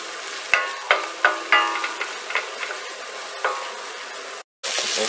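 Chopped carrots and other vegetables sizzle in a pan, with a steady frying hiss broken by several sharp scrapes and clacks as they are stirred, close and clear, followed by a brief silence.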